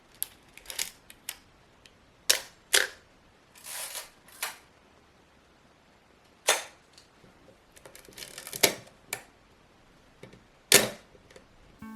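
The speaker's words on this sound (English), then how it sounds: "can you resist these shutter sounds?" Film camera shutters fire in a quiet room, a series of crisp, close clicks and snaps at irregular intervals, some single and some in quick pairs, with mechanical winding noises between them.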